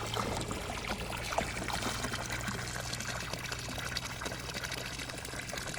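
An electric motor pump run from a 48-volt charger pushes water out of a pipe in a steady, close gushing pour with a low hum underneath that holds for the whole stretch.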